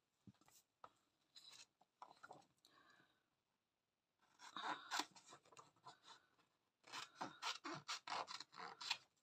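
Scissors snipping through paper in close, short bursts of crisp cuts, with a pause before two longer runs of rapid snips.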